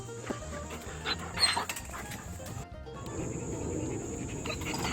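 A nine-month-old puppy pants steadily and lets out a few soft whimpers at close range, with a brief louder burst early on and a short quiet gap midway.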